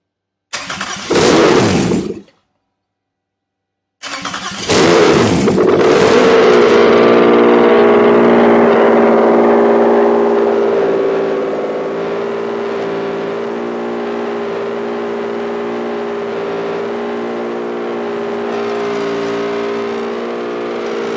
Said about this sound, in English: let's see if she fires